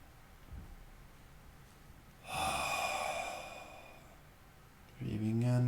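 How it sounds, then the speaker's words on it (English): Deep belly breathing during a yoga session: one long, breathy inhale-exhale of about three seconds rises out of near silence, close and soft, then a voice begins speaking at the end. "when we breathe in deeply into our belly, we get longer along the spine"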